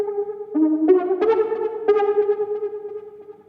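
Umbra Keys U Key 04 synth patch playing a short run of bright sustained notes with a built-in delay, each attack echoing and blending into a continuous tonal wash, with no voices over it.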